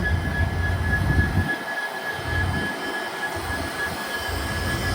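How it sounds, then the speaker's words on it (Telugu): A train hauled by two diesel locomotives rumbles steadily past at close range, with a constant loud low roar, fluctuating wheel and rail noise, and a thin high tone running throughout. "ఇక్కడైతే చూడండి ట్రైన్ డీజిల్ లోకోమోటివ్స్ అయితే రెండు అయితే ఉన్నది"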